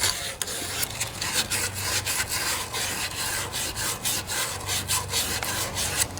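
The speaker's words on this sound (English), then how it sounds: "It's time to clean out these bearing surfaces a bit, so it's easy to install the new ones." Scraping and cleaning of the bearing surfaces on a junkyard Craftsman riding lawnmower's 42-inch cutting deck, a steady rasping rub made of short repeated strokes, close and fairly loud, over a low background hum.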